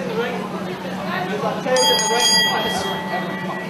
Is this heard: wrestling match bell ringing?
yes